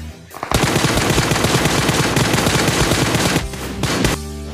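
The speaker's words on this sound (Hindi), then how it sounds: "इसको बंदूक से डैमेज देके इसको पकड़ लूँगा" Loud, continuous automatic gunfire from a gun in the shooting game Free Fire, rapid evenly spaced shots filling about four seconds before cutting off.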